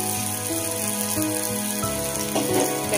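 Vegetables, cashews and turmeric frying with tapioca pearls in a pan for sabudana pulao make a continuous close sizzle, steady and moderately loud throughout with no talking.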